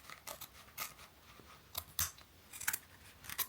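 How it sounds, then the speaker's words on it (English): Scissors snip through fabric in several short, crisp cuts with uneven pauses between them, close up and fairly quiet, without any talking. "So I'm gonna go in with my scissors and very carefully trim it."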